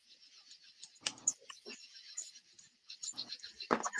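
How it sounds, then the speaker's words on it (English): Someone types on a computer keyboard in quiet bursts of clicking keystrokes, with short pauses between runs of keys. "I hear people typing"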